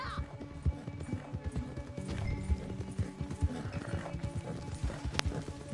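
A racehorse gallops in Red Dead Redemption 2, its hooves pounding in a fast, steady clip-clop rhythm close up, with a brief whinny and faint background game sound.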